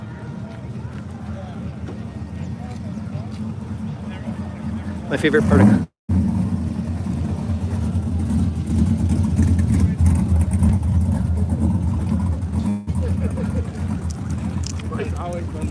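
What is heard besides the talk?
square body truck driving past at classic car show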